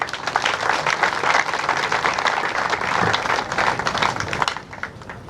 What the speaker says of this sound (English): Can we clap for our governor?